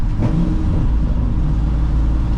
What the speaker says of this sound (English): So we're cruising in 4th gear.